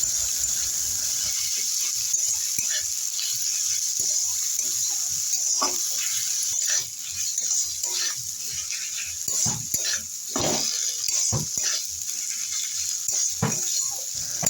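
Ginger, garlic and green chili paste sautéing with chopped tomato and salt in a pan for a Bengali bhetki fish-bone chorchori: a steady sizzling hiss throughout, broken by frequent scraping stirs and spatula clinks against the pan.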